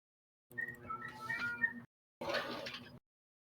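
Cat meowing, set within a Ran Online gaming session: two separate drawn-out, whiny cries with silence between them, fairly faint and heard alone without speech.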